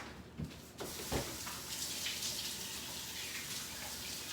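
Water runs steadily from a kitchen tap as hands are washed, a broad continuous rush with a few splashy bursts near the start.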